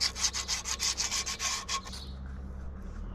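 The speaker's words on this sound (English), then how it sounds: "Brake cleaner, sandpaper. Just try and clean the face up a little bit because it's pretty grubby." Sandpaper rubbed back and forth over the grubby face of an irrigation pump, quick rhythmic scratchy strokes close up for about two seconds, then stopping, leaving a low steady hum in the background.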